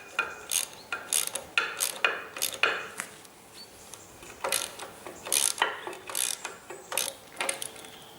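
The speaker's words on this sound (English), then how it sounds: "I've managed to get all the bolts done up on the rubber on both sides to clamp it in using a socket set" Socket set ratchet tightening bolts that clamp a new rubber blade onto a Twose scraper, heard as repeated bursts of quick metallic clicking, close and fairly loud, with short pauses between bouts.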